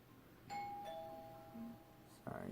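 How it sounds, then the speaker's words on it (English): A doorbell chimes with sustained ringing tones, fairly quiet, heard against background game sounds. "someone's ringing my doorbell"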